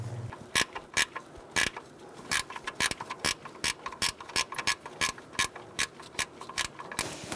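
A ratchet clicks in quick irregular bursts while tightening a fan clutch on a 2007-2017 Ford Expedition 5.4L V8, close and crisp with sharp repeated clicks and no speech.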